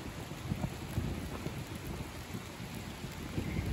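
Thunderstorm with a heavy downpour in a town on the Polish-Czech border: dense steady rain roars across the whole span, with scattered louder drops and low rumbles underneath.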